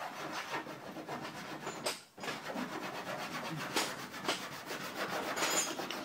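An F250 truck body is hand-sanded with 800 or 1000 grit sandpaper, giving a continuous close scratchy rubbing in steady back-and-forth strokes with one brief pause.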